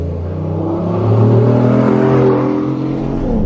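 A BMW i8 Roadster is driven on a bumpy road, its engine surging loudly from the cabin with a steady drone and rolling road rumble that swells midway and then eases slightly.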